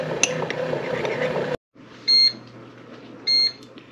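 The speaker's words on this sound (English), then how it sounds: "the bread machine's going off to let me know that it's done." A bread machine finishing its cycle sounds two short electronic beeps, separated by about a second, in a quiet kitchen after a brief stretch of background noise.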